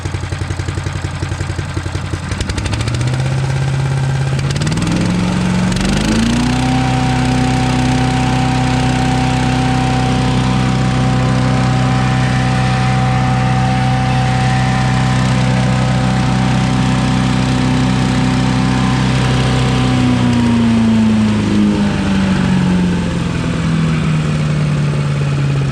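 A Harbor Freight Predator wood chipper shredder engine cranks over and fires, revving up to a loud, steady running drone that holds for a long stretch before easing down slightly near the end.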